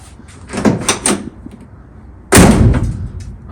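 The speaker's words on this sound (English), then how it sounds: "the door opens and closes just fine." Door of a 1964 Chevelle under restoration, opened and shut in a garage: a few soft clunks of it opening, then a single loud, close slam of it closing with a brief ring-out.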